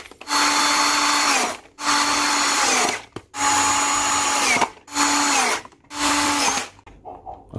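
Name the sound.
power drill tightening screws on jet cleaner housing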